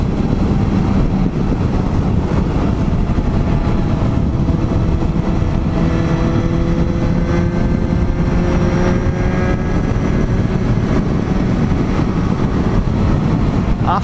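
A Suzuki Bandit 650 motorcycle engine running steadily, a loud continuous drone with shifting tonal lines as the revs rise and fall, close by and with no talking over it.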